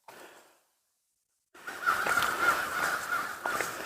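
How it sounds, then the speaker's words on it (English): Crows cawing on a quiet dirt road in a park along a Finger Lakes trail, a brief call, a pause of silence, then a run of harsh caws at middle distance. "I don't know if I startled the crows or what."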